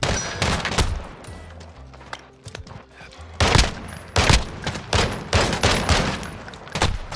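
Rapid bursts of MK rifle and other gunfire crack loudly in a Modern Warfare 2v2 Gunfight match, with sharp repeated shots clustering in quick volleys through the second half.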